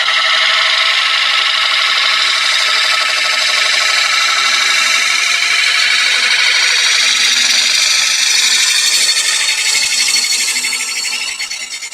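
Wood turning on a lathe, a tool cutting away the last chainsaw mark on the bottom of the piece, giving a steady close scraping, hissing rasp that swells and eases slightly before fading at the end.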